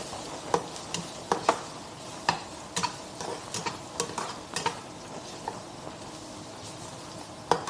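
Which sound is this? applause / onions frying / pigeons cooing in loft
onions frying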